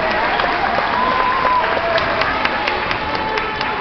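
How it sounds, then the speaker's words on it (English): A large crowd at a gathering shouts and cheers in a dense, continuous roar, with loud overlapping voices and scattered clapping close to the listener throughout. "A lot of people shouting. I told y'all there was going to be crowd."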